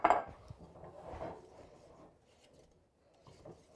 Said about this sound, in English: I'm going to dump this into here and stir it while I'm dumping it.